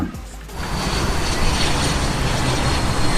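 A fixed-wing airplane engine drones steadily overhead in a coastal setting, a continuous loud roar that swells slightly after the first half second and holds without talk.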